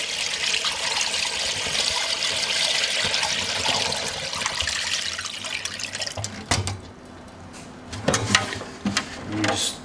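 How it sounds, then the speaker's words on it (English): Buttermilk pancake water ice mix poured into a machine's top opening, a continuous splashing, trickling pour that thins out into intermittent drips and gurgles near the end, close and fairly loud. "Gonna pour the whole thing in here."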